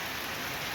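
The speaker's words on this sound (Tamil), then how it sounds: "14ஆம் தேதி அன்றைக்கி மழை வருது." Steady rain pours down in a dense, even hiss of drops on surfaces, loud and continuous throughout with no voices.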